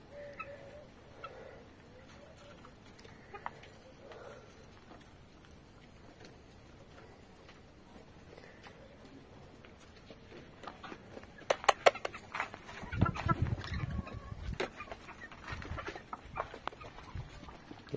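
Chickens cluck softly in the background, with scattered sharper clucks and scratching noises growing busier toward the end.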